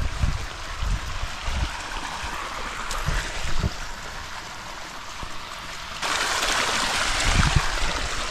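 A garden sprinkler at a campsite sprays a constant hissing wash of water, growing louder and brighter partway through as the spray swings nearer, with a few low thumps underneath.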